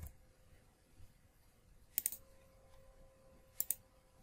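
Two quick pairs of computer keyboard key clicks, pressed as the Ctrl+Z undo shortcut in Microsoft Word 2019, sharp and close against a quiet background with a faint steady hum.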